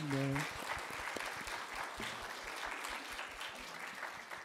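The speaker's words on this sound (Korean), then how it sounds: "자리에 잠깐 일어나시면 우리 박수로 환영하겠습니다" A church congregation at a Sunday service claps together to welcome three first-time visitors, steady applause filling the room after a brief spoken introduction at the start.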